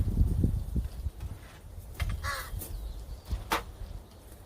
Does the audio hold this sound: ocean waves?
no